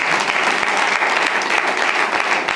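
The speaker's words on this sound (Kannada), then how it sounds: "ಚಪ್ಪಾಳೆ ತಡೆದೇವಿ ಮಾಡ್ತೀರ." A church congregation at a Sunday service claps together in a dense, sustained round of applause, loud and close, holding steady throughout without pause.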